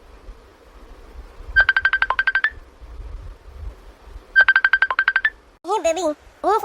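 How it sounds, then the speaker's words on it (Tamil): Mobile phone ringtone ringing indoors in a room, two short bursts of rapid warbling electronic tones separated by a pause, moderately loud, followed by people starting to talk. "உன் ஃபோன் தான் ரிங் ஆகுது"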